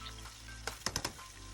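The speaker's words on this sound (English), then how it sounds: "So I began by frying the chicken." Chicken sizzles faintly in a pan as a steady hiss, with a few quick clinks of a utensil near the middle.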